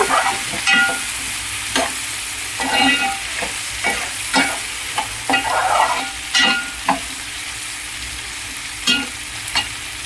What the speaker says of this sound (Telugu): దొండకాయలు వేసాను. దొండకాయలు కట్ చేసిన దొండకాయలు వేసాను. అవి ఫ్రై అవుతున్నాయి.